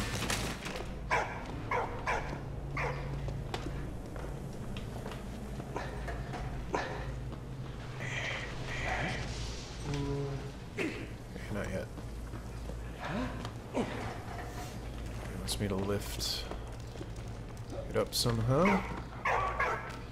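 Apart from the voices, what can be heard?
dog barking in video game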